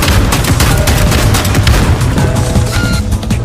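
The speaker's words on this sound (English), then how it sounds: "Rocket launcher." A rocket launcher firing in a shooter video game, a dense, loud barrage of booming blasts and rapid explosions filling the whole stretch with no pauses.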